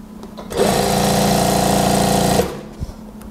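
A sewing machine stitches the pocket of a daster, a dense, fast whirring run of needle strokes lasting about two seconds, close and loud, starting and stopping abruptly with quiet handling noises around it.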